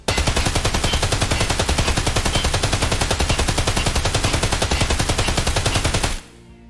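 DT MDR 5.56x45 rifle from Escape From Tarkov firing a long, continuous full-auto burst, loud and close, with evenly spaced rapid shots for about six seconds before cutting off into a short echoing tail.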